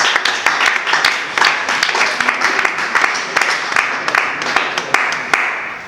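An audience at an election event breaks into applause for a candidate, a mix of crowd clapping and sharper individual claps close by that rises and falls in bursts with a little talk mixed in.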